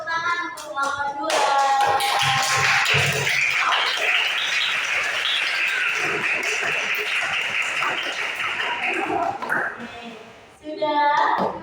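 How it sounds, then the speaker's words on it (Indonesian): A classroom of students claps for a presenting group in a loud, dense burst of many hands that lasts several seconds and then fades. Brief voices are heard before and after the clapping. "Berikan tepuk tangan untuk kelompok 2."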